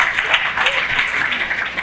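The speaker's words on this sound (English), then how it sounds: "Please, applause for her, please." Audience at a corporate fireside chat with the president of PWAN Group applauds in a dense, steady round of clapping that carries evenly from start to finish.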